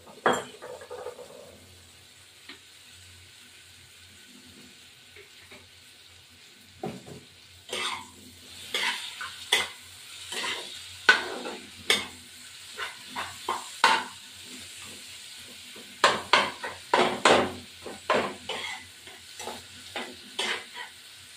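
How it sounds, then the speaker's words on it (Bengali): A spatula stirs food in a frying pan with oil, scraping and clinking against the metal in quick, uneven strokes over a faint sizzle; quiet at first, then busier and louder, no voices. "সমানে নাড়া দেবো।"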